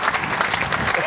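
A crowd at a real tennis world championship claps in a busy, uneven burst of applause, with voices faintly mixed in.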